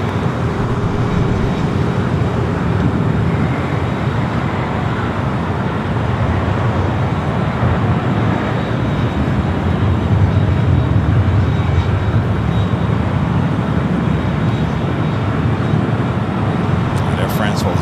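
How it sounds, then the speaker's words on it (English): An Air France Boeing 777-300ER arrives at LAX, its jet engines making a broad, steady roar that swells slightly partway through, heard from a distance and mixed with general airport noise. "the second Air France 777 at 300 ER, arrival of today"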